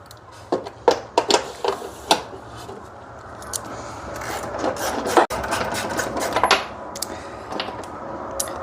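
A socket wrench on the starter bolts of a Hyundai Santa Fe 3.3L gives quick scraping ratchet clicks in short bursts, then a steadier rasping run, close up with no talking.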